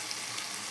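Chhana (paneer) fries in hot oil, a steady, close crackling sizzle with no talk over it.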